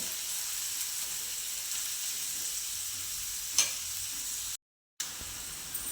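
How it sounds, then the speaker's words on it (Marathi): Chopped onion sautéing in a pan for a spicy green-chili thecha gives a steady, close sizzle with a sharp scrape of stirring partway through and a brief silent break near the end. "तो कांदा आपल्याला परतून घ्यायचा आहे"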